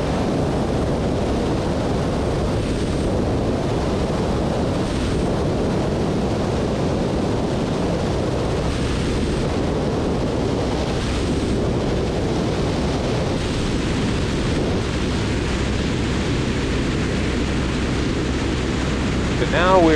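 A seaplane settles onto the water, with loud, steady rushing wash and churning waves beneath the hull and a continuous low engine drone filling the whole stretch, with no speech.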